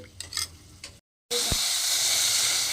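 Spice paste for dhaba-style chicken curry frying in oil, first some scraping and stirring, then after a brief gap a steady loud hissing sizzle that carries on to the end.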